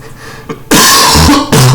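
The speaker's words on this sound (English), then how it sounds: "Sorry guys, you'll have to excuse the coughing." A man coughs hard and harshly at close range, in rough bursts with a throat-clearing rasp, loud and right up against the microphone.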